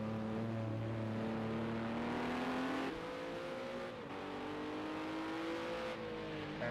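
A Ginetta race car engine in a racing video game drones steadily at high revs, its pitch climbing through gears with brief shift dips, loud and continuous throughout.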